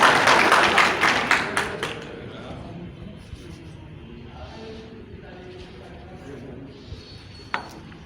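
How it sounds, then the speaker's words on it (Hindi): An audience at a film team event applauds in a loud burst of clapping for about two seconds. The clapping fades quickly into a quieter room with a few light taps and murmurs. "वीरेंद्रजीत सिंह साहब के लिए जोरदार तालियां हो जाए एक बार"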